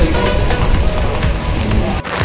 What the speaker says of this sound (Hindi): आ रही है ना बारिश की आवाज़ और ये कॉन्टिन्यूस बरस रही है।